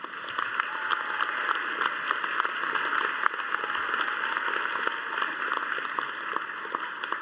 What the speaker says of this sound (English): Graduates, let's please give them a round of applause.